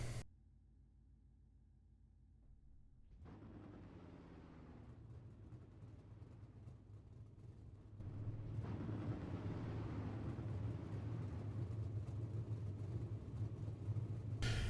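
Super late model race cars run on a dirt track at Volusia, a low distant engine rumble that swells and grows louder partway through as the field comes around.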